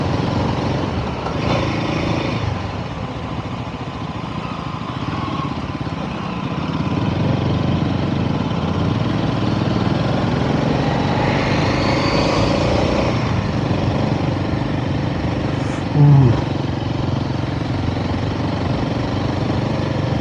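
Royal Enfield Himalayan motorcycle climbing a steep, winding road through thick fog on Nandi Hills, its engine droning steadily and loud throughout with a brief bump near the end.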